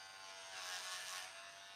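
An electric hair clipper buzzes in a thin, steady, high-pitched drone while cutting hair for a blunt cut, faint and close, swelling slightly midway; no voices.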